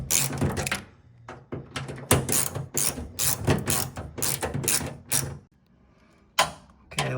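A screw is worked loose from the lower panel of a Whirlpool Duet washing machine, giving repeated close ratcheting clicks in bursts with brief pauses.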